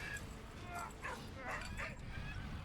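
Puppy barking and whimpering in the World War I video game Valiant Hearts: The Great War, a few soft yips heard faintly beneath game music and ambience.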